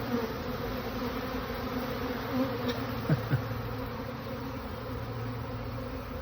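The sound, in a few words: honey bees swarming around a swarm trap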